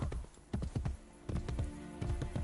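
Horse hooves clip-clop on pavement in Assassin's Creed Brotherhood, a close, steady series of hollow knocks in quick groups of two and three.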